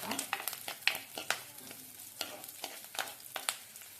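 Ginger, garlic and curry leaves sauté in a pan for a shilavu (fish) curry, giving a steady close sizzle broken by repeated sharp scrapes and taps of a spoon stirring, with no voices.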